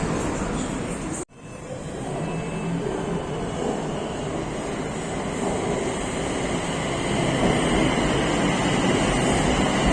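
Bangkok BTS Skytrain metro train passing close by, a loud broadband rushing roar with a brief dropout early on, then a sustained rumbling whine that swells toward the end.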